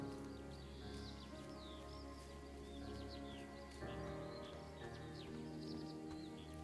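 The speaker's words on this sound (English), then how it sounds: "Sounds very peaceful with the birds." Birds chirping in the video game Firewatch, set in the Wyoming wilderness: faint scattered tweets over a quiet ambient musical drone.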